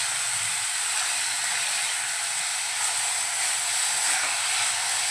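Fenugreek leaves and onion frying in a pan for Malvani-style methi bhaji, a steady loud sizzling hiss throughout with faint stirring.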